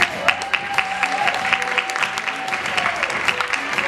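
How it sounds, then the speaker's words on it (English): Steady audience applause for the finalist couples at a dance competition, a dense continuous patter of clapping with sharper individual claps standing out, under a held musical tone. "That applause for our finalists."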